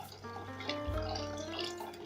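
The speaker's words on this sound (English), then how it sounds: "So I'll add in my water." Water is poured into a simmering pot of ndengu (green gram) curry, a soft, continuous liquid splash heard quietly alongside a low background hum, with no one speaking.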